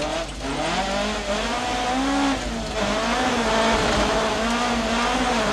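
Two-wheel-drive Opel Manta rally car at full throttle on a forest stage of the 1992 Townparks Rally, its engine loud and continuous with rising and falling revs as it shifts through gears.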